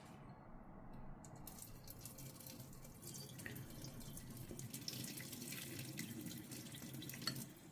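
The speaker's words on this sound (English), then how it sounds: "we're just going to pour the hot water onto it" Steady rush of hot water pouring from close by onto instant fried noodles, a continuous running splash that holds evenly for several seconds with no talking.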